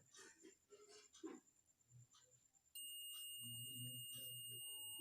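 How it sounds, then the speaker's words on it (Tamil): A 12V to 24-0-24 converter under repair sounds a steady, high-pitched electronic beep that starts partway through and holds continuously to the end, while someone talks quietly beneath it. "பீப் சவுண்ட் வருது பார்த்தீங்களா?"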